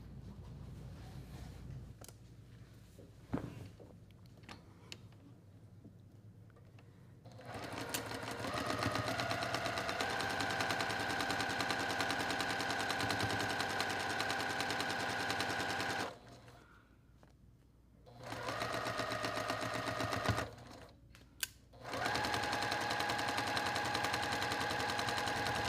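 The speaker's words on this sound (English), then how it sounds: "And then sew with a 1/4 inch seam." A sewing machine stitches a quarter-inch seam on a quilt block in steady, loud, continuous bursts, running for several seconds, pausing briefly, then starting again, with no talking.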